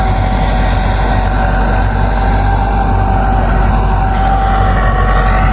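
A Massey Ferguson 375 tractor drags a 60-cutter rotavator through wet field soil, its engine a loud, unbroken, close drone with a steady tonal hum throughout and no voices.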